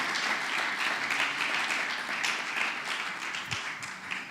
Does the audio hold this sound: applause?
yes